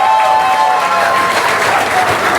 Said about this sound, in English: If I can have a round of applause to Martyn.